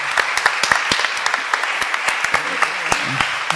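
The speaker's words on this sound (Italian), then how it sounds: "un applauso ai giornalisti dell'erba" Audience applause for young student journalists at an environment and science event, a room of distinct close hand claps rattling steadily with faint voices beneath.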